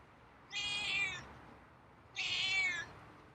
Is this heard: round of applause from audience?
no